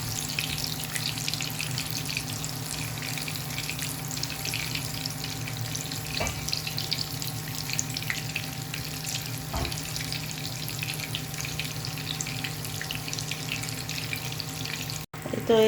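Eggplant fries on a stove burner in a home kitchen, a steady, soft, hissing sizzle that runs evenly throughout, with a couple of faint knocks and a brief clatter near the end.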